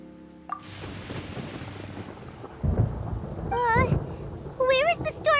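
Deep rolling thunder in the game Genshin Impact, a rumble that builds and swells over rain-like hiss, with bright character vocal sounds and chatter over the later part.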